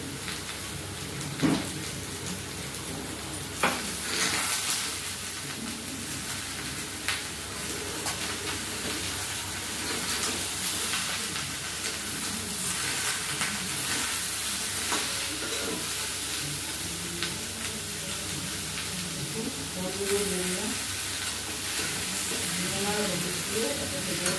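Bottle gourd, added to potatoes already cooked with salt, sizzles steadily in a pan while being stirred, a continuous close hiss with scraping taps, and a voice speaks quietly over it at times.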